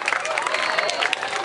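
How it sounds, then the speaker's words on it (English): Crowd cheering for Juno the polar bear at the CNE fair, a dense, loud wash of many voices and shouts sustained throughout, close and continuous. "Oh, he wants a bigger cheer."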